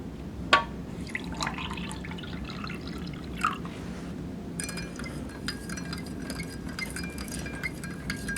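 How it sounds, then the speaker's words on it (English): Water trickles and drips into a small drink pouch from a military ration pack, with a few sharp clinks and soft splashes over a faint background. "Add a little bit of water to that."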